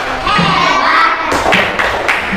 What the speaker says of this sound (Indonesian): Coba kasih tepuk anak hebat.